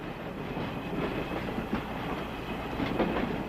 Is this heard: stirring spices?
no